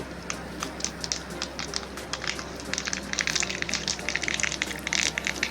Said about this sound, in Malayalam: ചീനിച്ചട്ടി എടുത്തു വെച്ചു ശകലം വെളിച്ചെണ്ണ ഒഴിച്ചു കുറച്ച് കടുക് ഇട്ടു